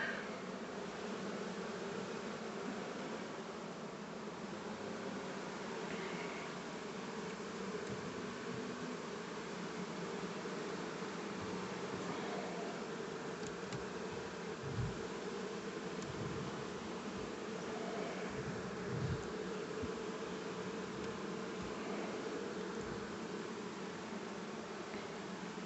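Bees from a long hive swarm and buzz steadily for the whole stretch, a dense, close, continuous drone with no talking over it.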